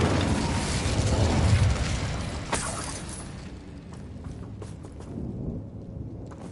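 A fiery Incendio spell in Hogwarts Legacy flares with a loud whooshing burst that fades into crackling rumble, followed by scattered impacts and softer combat noise.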